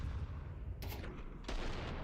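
Gunfire in a Counter-Strike match during a pro esports game between C9 and Heroic, with two sharp bursts over constant low game rumble and background noise.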